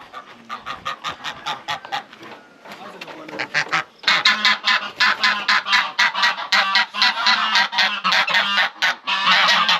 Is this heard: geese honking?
yes